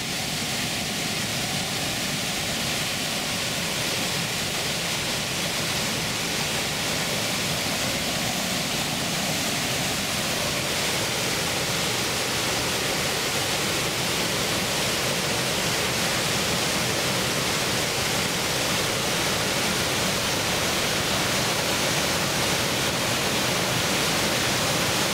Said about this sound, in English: this weir is designed to maintain the water level upstream